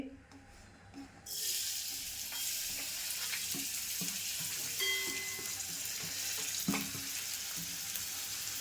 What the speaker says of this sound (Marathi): तेलामध्ये आपल्याला कांदा आणि मिरची मी एकदमच टाकते.